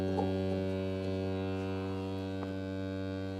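Steady sustained tone from the first oscillator of an old Korg teaching synthesizer, a buzzy harmonic-rich drone held evenly throughout, alone with no voices.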